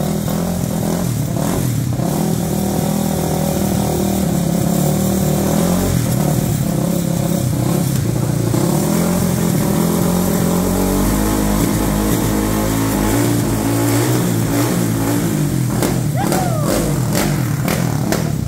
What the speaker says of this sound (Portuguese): Liga aí, Mirão, fazer um testinho, ver se tá funcionando o trem.